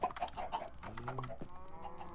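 Minecraft chickens cluck in quick, faint bursts, a few short calls tumbling together, then a longer warbling cluck near the end with no voices over them.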